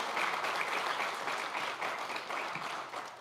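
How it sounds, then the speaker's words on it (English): An audience at a New York State Commission on African American History meeting claps steadily for about three seconds, a close, even patter of many hands with no voices over it. "Let's give our Assembly Majority Leader a round of applause."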